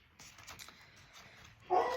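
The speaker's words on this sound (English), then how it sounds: "Oh, that's my dog Podge" Rescue dog indoors, giving faint whimpers and soft yips before one sharper, louder bark near the end, fairly close in a quiet room.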